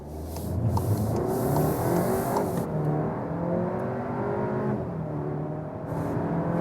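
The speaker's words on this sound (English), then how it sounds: "what happens when I accelerate out here from standstill?" A VW Arteon R-Line Shooting Brake wagon pulls away hard from a standstill, its engine revving up through rising pitches from inside the car, loud and close, with a brief gear change before climbing again.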